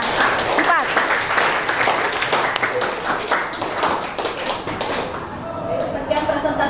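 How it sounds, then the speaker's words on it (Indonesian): An audience applauds a group presentation in a classroom, with sustained, fairly loud clapping from many hands across the whole stretch and voices murmuring underneath. "mari kita beri aplaus untuk kelompok 3, 4"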